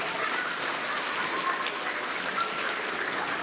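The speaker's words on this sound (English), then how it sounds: "let's give him a round of applause" A short stretch of steady applause from an audience for a performer at a fundraiser show, dense and even throughout at moderate level.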